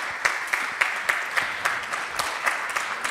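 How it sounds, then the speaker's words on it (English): A small audience at a BMW iX3 preview event in Peterborough gives a light round of clapping, with fairly sparse, evenly spaced claps continuing under a faint background of the room. "a round of applause for that person"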